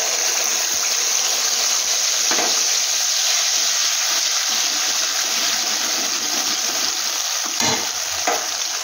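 Paste of ground cashew, poppy seed, ginger and green chili frying in a pan for a cauliflower kofta curry, a steady loud sizzle with occasional stirring scrapes, no voices.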